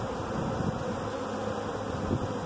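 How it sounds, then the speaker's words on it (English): A swarm of honey bees fills the air with a dense, continuous buzzing as it settles into a hive box outdoors, steady and close without any voices. "That whole cloud of bees is coming down to this box, slowly but surely."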